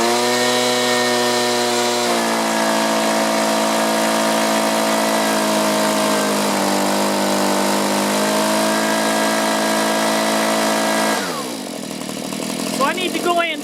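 A STIHL chainsaw engine idles loud and close, running rough while its carburetor is adjusted; the buzzing tone wavers and shifts pitch, then drops and stumbles unevenly near the end.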